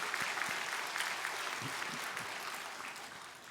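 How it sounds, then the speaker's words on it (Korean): A church congregation claps in thanks during a Sunday worship service, a dense, even round of applause filling the room and tapering slightly toward the end. "우리 한번 하나님께 감사의 박수 드리겠습니다"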